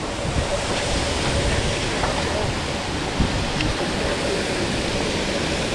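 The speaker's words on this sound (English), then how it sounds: "Look at the waterfall." A waterfall gives a continuous broadband rush of falling water, heard outdoors during urban exploration by e-bike at an abandoned building. The sound stays steady and fairly close throughout, with a few faint knocks and no speech.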